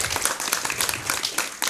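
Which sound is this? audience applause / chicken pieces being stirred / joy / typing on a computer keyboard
audience applause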